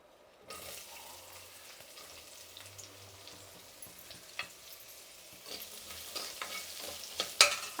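Onions and unpeeled garlic cloves with the ends trimmed fry in a little oil in a pan, a steady soft sizzle under scraping stirs and occasional utensil knocks that grow louder toward the end.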